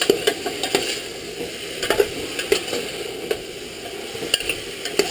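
Beef for caldereta sautéing in a hot pan, a steady close sizzle broken by repeated scraping clicks of a utensil stirring the meat; no voices.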